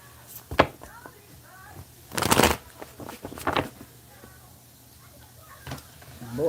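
Tarot cards shuffled by hand indoors in short riffling bursts, one strong burst in the middle and a few quicker flicks around it, fairly close and moderately loud, with a faint voice murmuring between.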